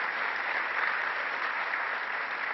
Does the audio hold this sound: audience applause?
yes